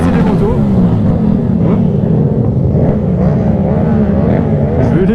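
Motorcycles at the Porcaro La Madone rally roar loudly through a small village, their engines revving and wavering continuously up close while voices talk underneath.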